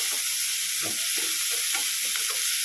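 Curry leaves and salt are stirred into a dry fish curry in a pan. A steady close sizzle hisses throughout, broken by repeated scraping stir strokes.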